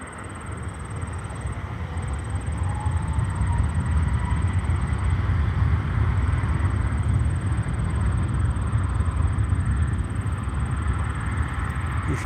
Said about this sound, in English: the Southwest, the Max 8 is moving on, taking off now. Going to be rolling down the runway right now.